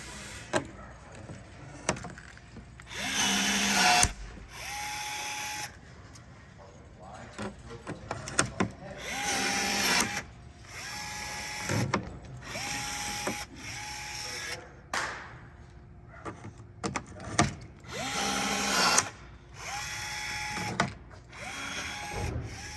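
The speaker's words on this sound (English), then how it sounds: "You're going to finish your install by installing the rivets just like we did for this hole back here." A drill installs rivets on a Dodge Charger stealth diffuser, sounding as repeated short buzzing whirs of a few seconds each, close and loud, with pauses and clicks between rivets and a person talking over parts of it.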